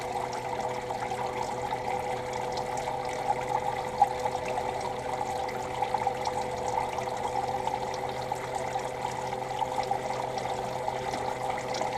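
Water spraying steadily into a cooler livewell to aerate it, a continuous even hiss and splash heard close up with no other sounds.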